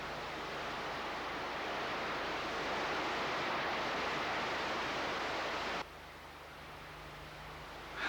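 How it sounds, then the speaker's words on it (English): Wet-season waterfall after a storm in Australia's wild north-west, a seemingly solid column of white water pouring down; a steady, dense broadband roar that drops slightly in level near the end, with no voices. "the gentle falls of the day before have been transformed into a seemingly solid column of white water"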